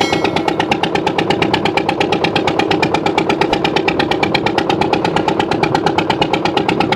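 Steady engine of a river boat on wave-tossed water heading toward the Bay of Bengal, a continuous rhythmic chugging throbbing close by and fairly loud, with no voices over it.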